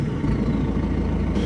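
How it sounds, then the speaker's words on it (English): An old diesel vehicle with a turbo idles close by in a steady, low, rough rumble, with a faint turbo whine riding above the engine. "Hear the turbo going."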